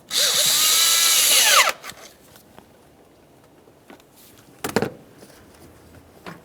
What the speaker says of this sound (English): Let's tighten that clamp.